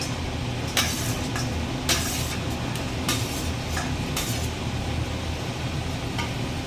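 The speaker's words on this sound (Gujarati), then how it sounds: "હળદર નાખ્યા બાદ આપણે જે આ ચિપ્સ છે તે અંદર ઉમેરી દેવાની છે" Potato chips tossed into a pan with turmeric and asafoetida, a steady frying hiss broken by several clinking scrapes of a utensil against the pan.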